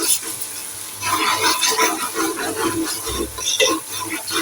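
Ginger garlic paste frying in a pan for a potato and meat curry, a steady close sizzle with soft stirring scrapes running throughout, with a faint voice underneath.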